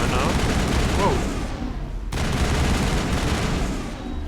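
Rockets and rapid gunfire in the Mass Effect video game, a dense, continuous barrage of shots and blasts that stays loud and steady throughout.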